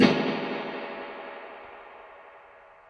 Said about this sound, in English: It's the Magneto reverb machine. This is called 3-speed, and I'll just hit the guitar just so you can hear the decay of it.